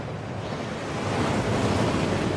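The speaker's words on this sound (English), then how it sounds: "That waterfall washes away all enchantments." Steady, loud rushing water from the enchantment-removing waterfall in the Gringotts vaults of Hogwarts Legacy, a dense continuous roar with no voices.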